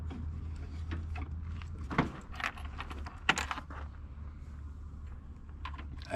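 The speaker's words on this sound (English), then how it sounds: "Lots of keys." A bunch of keys jangles in a workshop set up for VW restoration, with scattered metallic clinks and two sharper rattling bursts over a low background hum.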